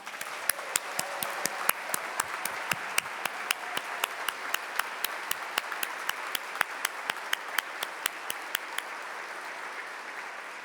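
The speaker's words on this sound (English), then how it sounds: "join me in a very loud round of applause for the Herblock Foundation" Audience at a prize ceremony for political cartoonists applauds for the Herblock Foundation, a steady bed of clapping with one nearby pair of hands striking sharp, regular claps above it before the sound thins slightly.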